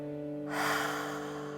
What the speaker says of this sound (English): Exhale out the mouth, HA.